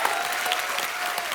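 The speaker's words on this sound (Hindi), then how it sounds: "एक बार सुनिधि चौहान और हितेश के लिए जोरदार तालियां।" A TV comedy show studio audience breaks into dense, loud clapping, a continuous wash of hands applauding throughout with no clear speech on top.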